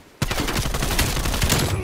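Rapid 9mm gunfire in Call of Duty Cold War, a dense continuous burst of close, loud shots lasting nearly two seconds.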